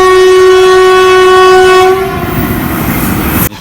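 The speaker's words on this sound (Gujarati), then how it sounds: "ટ્રેન આવી ગઈ છે." A train pulling into a station blasts a loud, sustained horn for about two seconds, then a heavy rumble of carriages rolls on before cutting off abruptly.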